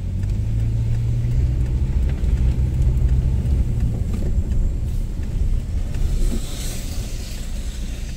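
A car drives through the streets of Anadyr in April, its engine a steady low rumble heard from inside with road noise throughout and no talking.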